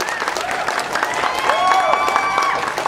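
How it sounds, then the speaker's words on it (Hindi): An audience applauds to welcome Azad, an artist, at the motion-poster launch of the Meitei film Azad, with steady, dense clapping throughout and faint voices and a tonal sound weaving through the crowd noise. "जोरदार तालियों से आजाद का स्वागत कीजिए।"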